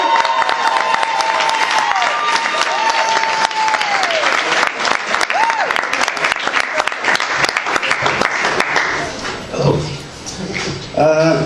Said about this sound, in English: Give Gavin Liddel a big round of applause.